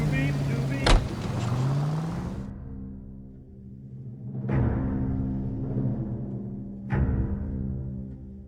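A car driving in the video game L.A. Noire gives a steady, fairly loud engine drone with a few sharp knocks and bumps over it, and a voice may be faintly present.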